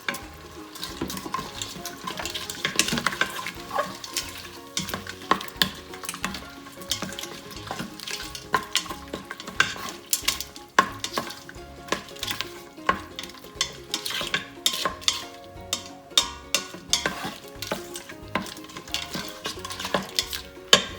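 Onion, tomato and ginger garlic paste fry in an Instant Pot for mutton curry while a utensil stirs and scrapes against the pot. Steady sizzling runs throughout, punctuated by frequent close, sharp metallic scraping strokes.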